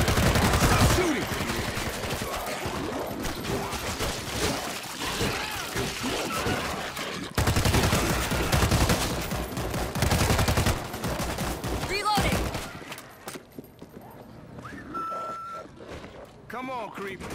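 Gunfire in the zombie shooter World War Z crackles in dense, rapid bursts with overlapping shots for about twelve seconds, then drops to sparse distant sounds, with voices calling out over the shooting.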